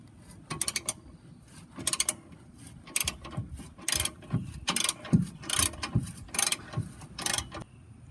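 A socket ratchet clicks in short bursts while loosening bolts on a Ford F250 during fog light replacement, close up, with a mechanical rattle between strokes and no talking.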